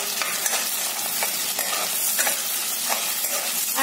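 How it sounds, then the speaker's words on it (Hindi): Crushed ginger and tomato sizzle in a pan for dal makhani, with a steady bright hiss broken by repeated close scraping stir strokes at an even rhythm, no voices. "I am going to put that ginger, crushed ginger and tomato. थोड़ा सा इसको मैं मिक्स करूंगी"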